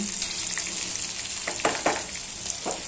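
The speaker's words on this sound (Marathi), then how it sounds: "चांगली फ्राय झाली पाहिजे." Rajasthani green chillies frying in a pan: a steady sizzling hiss, with a few spoon stirs scraping through it.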